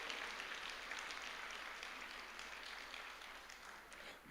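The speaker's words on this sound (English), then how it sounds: "Please give her a big clap of hands." Audience at an international convention applauding steadily, a dense even patter of clapping that holds at a constant level from start to finish, with no voices standing out above it.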